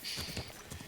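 Rhythmic hoof clip-clops of a horse trotting in the video game Kingdom Come: Deliverance II, brief and soft under a faint background hum.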